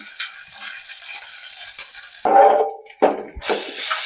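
Ground chutney sizzles in a hot pan, joined partway through by louder scraping and stirring bursts.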